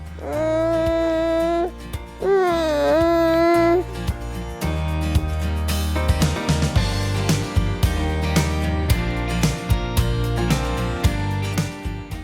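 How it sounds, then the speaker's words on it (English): A baby falling asleep outdoors in Northern Ireland's Mourne Mountains lets out drawn-out, rising and falling whimpering cries that settle into softer, broken fussing sounds. "This is the sound of a baby slowly putting herself to sleep."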